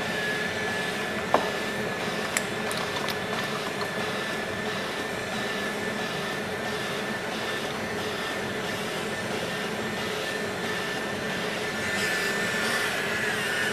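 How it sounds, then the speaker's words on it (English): Vacuum roller cellulite treatment machine with its handle running suction: a steady, loud broadband whooshing hum with a faint constant whine, unbroken apart from a couple of small clicks near the start. "adjust the vacuum accordingly by feeling to adjust the vacuum here. Stronger or weakness."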